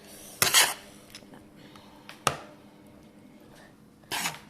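Butter being worked into couscous grains in a dish, heard as a few distinct bursts of clinking and scraping against the bowl, separated by quiet pauses.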